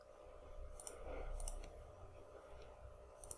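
A few faint, crisp mouse clicks, spaced apart over a low background hum, with no talking.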